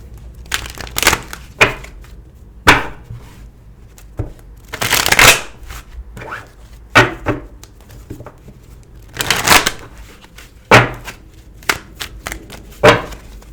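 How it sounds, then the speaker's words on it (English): Tarot cards being shuffled by hand, close and crisp riffling bursts repeating at irregular intervals, with short taps and pauses between shuffles. "Bear with me as I shuffle and get the cards reset"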